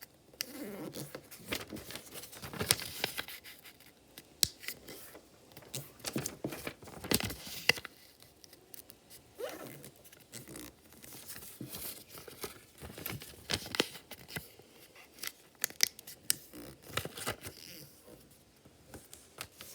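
Origami paper folded and creased into a heart box, steady close crinkling, rustling and sharp crisp snaps of paper over about twenty seconds, with no talking.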